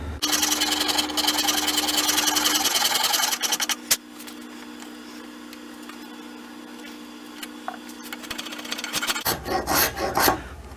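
Steady rasping of a file on a wooden rifle stock for about three seconds, then quieter scraping and spokeshave strokes, with a louder burst of rough rubbing near the end.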